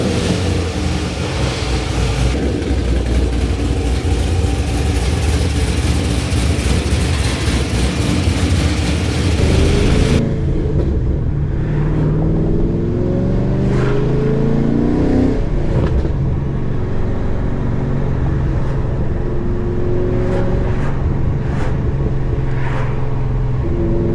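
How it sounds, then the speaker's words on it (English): A built Camaro Z/28 engine with a minor exhaust leak rumbles loudly, first a dense roar, then revving with rising pitch sweeps and puffing, ticking exhaust bursts at idle. "You guys can hear the minor exhaust leak."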